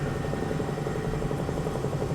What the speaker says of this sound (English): We got to land this damn thing and get those guys on the helicopter.